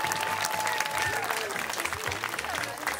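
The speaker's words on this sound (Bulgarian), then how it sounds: "Аплодисменти и за този Левент тук" Crowd applause at a summer salsa festival, steady mid-distance clapping with murmuring voices and a faint tone running beneath, continuing evenly throughout.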